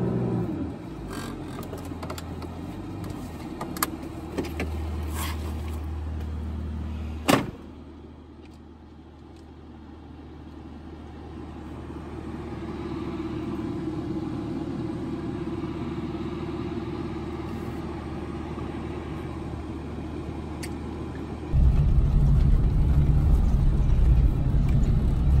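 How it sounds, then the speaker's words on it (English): A Toyota in two-wheel drive labouring through soft sand, its engine droning steadily with a few knocks and clunks, then surging to a louder, heavier roar near the end. "See, we're in two-wheel drive, we're really struggling to get through this."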